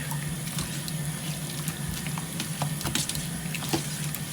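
Hot water runs from a kitchen tap into a sink being cleaned with bleach and dish soap, a steady close splashing stream with occasional clinks and knocks.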